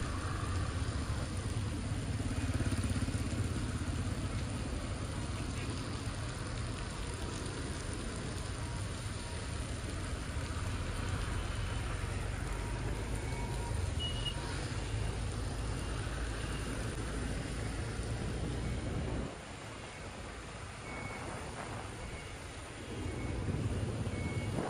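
Heavy night rain pours down in Nha Trang under a tropical depression, a steady dense hiss that drops briefly near the end before swelling back, with faint traffic beneath.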